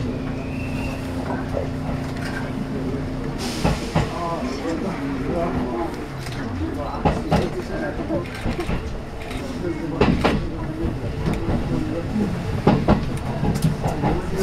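A JR Central Taketoyo Line local electric train running between Obu and Owari-Morioka, heard from inside with steady rolling rumble, rail clatter and bumps, people talking and an onboard announcement over it.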